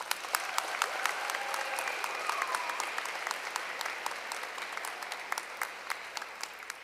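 Audience applause at a 2023 graduate commencement at Westville State University, a steady broadband wash of clapping with sharp individual claps standing out, sustained for several seconds at moderate distance.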